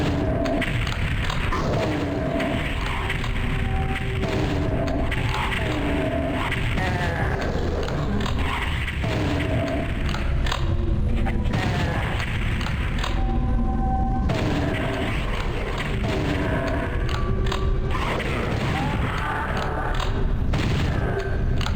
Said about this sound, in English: Perhaps I better use the shotgun.